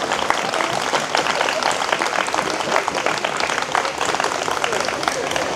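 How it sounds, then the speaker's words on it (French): Audience applause at a talk, a dense, steady patter of many hands clapping near and loud throughout, with voices mixed in beneath it. "Je pense qu'on peut l'applaudir."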